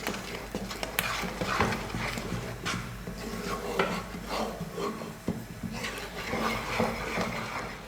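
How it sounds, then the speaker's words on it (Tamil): A sweet gram flour mixture is stirred steadily in a pan over a medium flame, giving continuous close scraping and rubbing of a utensil against the pan with light clinks and no talking. "கைவிடாமல் உருண்டையெல்லாம் எதுவுமே இல்லாத மாதிரி நல்லா கலந்து கொடுத்துக்கோங்க"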